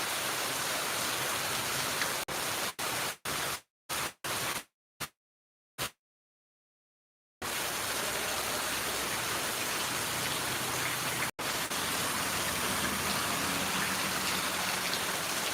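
Steady rain pours down in a dense, even hiss, broken by several abrupt cutouts into silence partway through.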